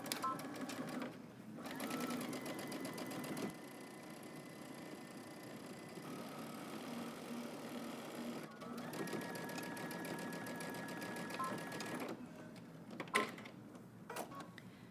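A sewing machine stitches a double hem on a front tie top, running in steady buzzing bursts with short pauses between runs as it reverses for back stitching. Close and clear, no voices.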